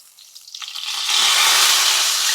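Fish frying in a pan for a Filipino sweet and sour dish: a close sizzle that starts quietly and builds within half a second into a loud, steady hiss that keeps going with no talking.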